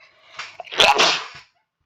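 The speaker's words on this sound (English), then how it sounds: "I think I'm about to sneeze" A single close, loud sneeze with a short sharp inhale before it, then the burst, heard alone with no talk over it.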